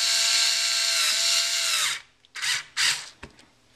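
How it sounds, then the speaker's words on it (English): Power screwdriver tightening a screw on an Ez8 Tech Lok, a loud whirring run of about two seconds, then a few short bursts as the screw snugs down. "I use my handy dandy screwdriver"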